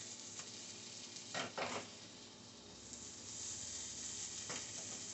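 A flipped egg frying in a pan gives a quiet, continuous sizzle, with a few soft scrapes and stirring clatters near the start and again toward the end.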